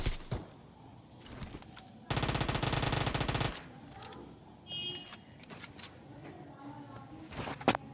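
In a squad shooter video game, a steady burst of automatic gunfire rattles for about a second and a half, with faint clicks and other game noises before and after.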